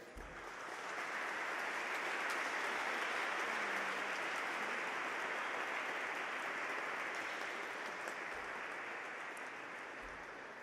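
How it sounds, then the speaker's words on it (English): At a La Salle Academy graduation ceremony, the Class of 2022 gives their parents a sustained round of applause, a dense, steady wash of many hands clapping in a large room, holding for about ten seconds. "Class of 2022, give a heartfelt round of applause to your parents."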